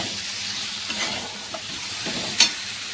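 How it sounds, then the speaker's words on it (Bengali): Spices, tomato and salt sizzle and fry in a pan while being stirred, a steady close hiss with a few soft scrapes and one sharper clink near the end. "এখন সুন্দর করে কষিয়ে নেব ও দুটোতেই অল্প একটু জল দিতে লাগবে কষানোর জন্য তো চলো সুন্দর করে মিশিয়ে দিই"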